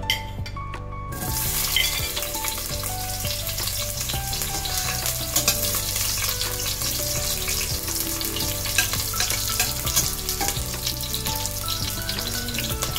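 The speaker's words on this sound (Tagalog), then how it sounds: "Ang bango talaga ng sibuyas, guys, kapag ginigisa mo siya." Onions sauté in a pan for an Ilocano chicken soup with patola and sotanghon, a continuous close sizzle with stirring, under steady melodic background music.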